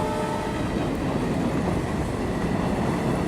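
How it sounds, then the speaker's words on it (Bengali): A train passes close by on the railway track beside a road, with a loud, steady rumble and rolling wheel noise filling the whole stretch, no voices heard. "আমাদের রাস্তা থেকে ট্রেন যাচ্ছে, সেটাই দেখো তোমরা এখন।"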